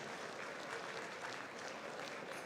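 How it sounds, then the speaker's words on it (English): An audience at a fundraiser applauds steadily, a dense, even wash of clapping from a crowd that stays at a constant level throughout, with no voices standing out. "How about a big round of applause for our"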